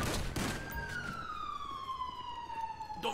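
A police siren wails in the FiveM video game, a loud falling tone with an abrupt onset, mixed with sharp bursts at the start and end.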